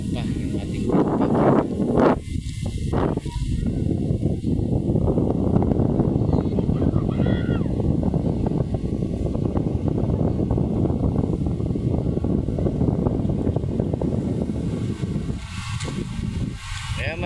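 Strong wind at Manila Bay, by the choppy sea where small boats head out, roars and buffets steadily against the microphone. A person talks at times.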